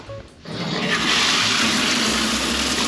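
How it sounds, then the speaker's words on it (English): A shower turned on after thawing frozen pipes: after a brief click and quiet moment, water bursts out and runs in a steady, close hiss that continues to the end. "let's turn the shower on"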